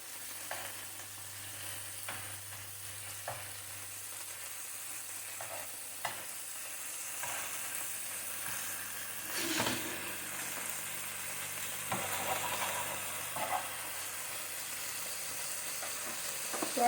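Turkey meatballs fry and brown in a pan with a continuous soft sizzle. Occasional small clicks and stirring scrapes sound over it, and no one speaks.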